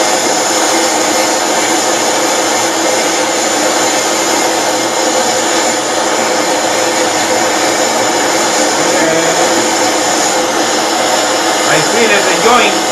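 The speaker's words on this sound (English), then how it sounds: "now I'm welding with a silver" A torch brazes a harpoon tip joint of pipe, tip and bolt with silver solder, giving a steady, loud roaring hiss that runs unbroken and close throughout.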